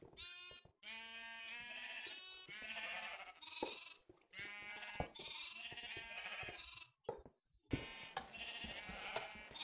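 Minecraft sheep bleating repeatedly in quick, clear, close bursts separated by brief silences.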